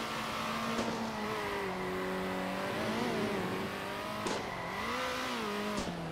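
Race car engine in the Circuit Superstars video game, droning steadily with harmonics that drop as the throttle eases through a bend, then short sharp bursts as it brakes and darts into the pits.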